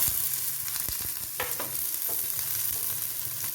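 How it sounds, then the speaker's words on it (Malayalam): Chopped onion and carrot added to hot oil with popping mustard seeds in a pan, a steady loud sizzle with a few stirring scrapes and clicks, no voices. "സവോള ഇട്ട് കൊടുക്കുക"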